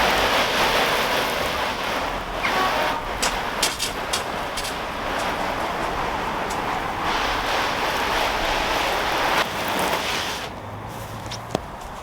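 Water drenches a Polish laavu canvas tent, making a steady, dense hiss like heavy rain on the fabric, with a few sharper splashes and patters throughout.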